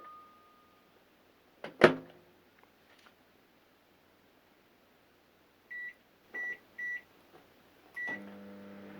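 A repaired microwave oven is tested with cold water inside: a sharp clunk, then near-silence, followed by four short electronic beeps and a low hum that begins as the oven starts running.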